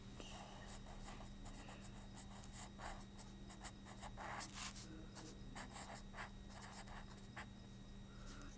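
Quiet chalk or marker strokes scratch across a classroom board in short bursts, faint beneath a steady low hum, while a teacher speaks softly at times.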